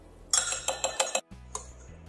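A whisk strikes a bowl while mixing vanilla, sugar and cornstarch: a quick burst of five or six bright metallic clinks, a brief pause, then a few softer taps, close and clear.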